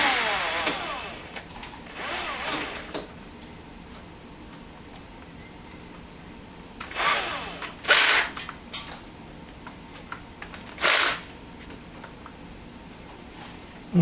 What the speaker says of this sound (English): Take our bit back out and put our drill bit back in.